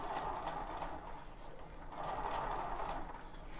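A sewing machine hums quietly and steadily while fabric is pleated for ruffles, its motor whirring in two long runs with a brief slowdown between them.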